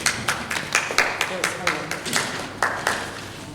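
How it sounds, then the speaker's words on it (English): A small group gathered for a door-to-door title deed handover in Eersterust gives a sparse round of applause, a dozen or so distinct claps spaced irregularly, fairly close and moderately loud, with voices in the background. "Let's give her a round of applause."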